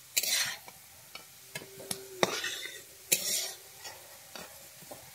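Potatoes fry in hot oil in a pan for a fish-head and cabbage curry, with short bursts of sizzle broken up by a utensil clinking and scraping against the pan.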